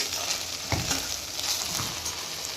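Sliced okra with curry leaves fries in a pan, giving a soft, continuous sizzle broken by a few close scraping stirs of a spoon, with no voices.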